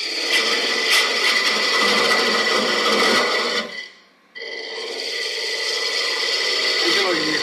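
A spindle gouge makes a lighter cut into spinning wood on a lathe, a loud, steady buzzing scrape with a ratcheting texture. It breaks off briefly into near silence, then resumes and runs on.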